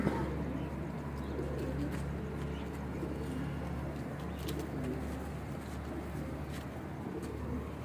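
Jeth pigeons coo softly in a low, continuous murmur beneath a steady hum, with occasional faint taps and shuffles nearby.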